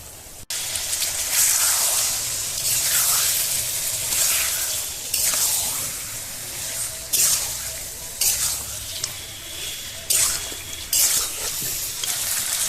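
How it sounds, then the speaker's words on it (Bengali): Washed duck meat frying in a cooked, oil-releasing spice masala, a steady loud sizzle with repeated stirring swells, close up and without talk. "এবার আমি মাংসটা দিয়ে দেবো।"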